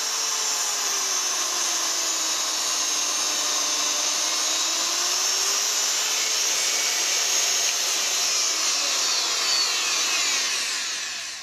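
A Banggood 240 volt electric die grinder runs steadily and loudly for the whole stretch, a continuous high-pitched motor whine with a slight wavering in its tone and no voices.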